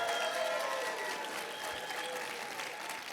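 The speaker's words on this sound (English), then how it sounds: "Could we give her a round of applause?" Audience applause at a startup demo day event, a dense, steady wash of clapping from a crowd that holds loud and even for about three seconds with no speech.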